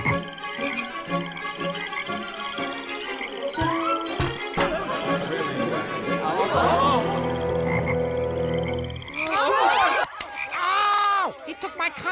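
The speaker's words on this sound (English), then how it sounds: "The frogs follow, and Hooper's got a plague he can't handle." Loud, dense frog croaking, raspy and rhythmic, fills the clip with a few sharp squeaky cries rising near the end.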